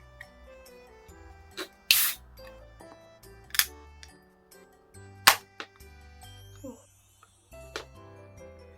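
A bag of red chili potato chips is torn open: sharp crinkling bursts and plastic rips come in several separate loud pulses with quieter rustling between them, close up and without talk.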